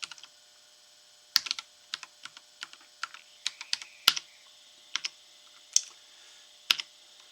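Sparse, irregular clicks of a computer keyboard as a root password is typed, each keystroke sharp and close, set over a faint steady mains hum.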